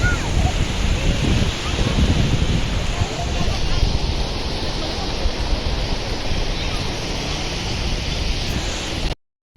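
Sea waves of the incoming tide at Bhuigaon Beach make a loud, constant roar of surf buffeted by wind noise, with a voice faintly heard now and then.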